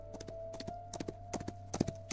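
Horses clip-clop through a forest in the game Love & Deepspace, with faint, uneven hoof thuds spread in scattered clusters over a steady low hum.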